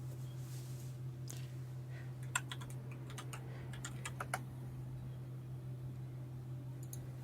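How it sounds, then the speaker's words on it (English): Typing on a computer keyboard: sparse, irregular bursts of key clicks, close and fairly quiet, over a steady low electrical hum. "I hear typing."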